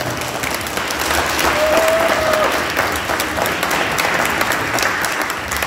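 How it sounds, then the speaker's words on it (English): Loud, steady applause from a crowd at a Pittsburgh community meeting with the mayor in Homewood, continuous clapping filling the room from start to finish. "So I'd like for you to give my team a round of well applause."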